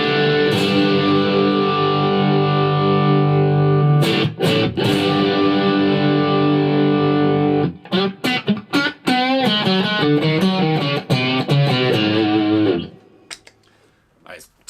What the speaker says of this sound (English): if we add the DS1, I've got all the controls just at 12 o'clock for a kind of a baseline approach.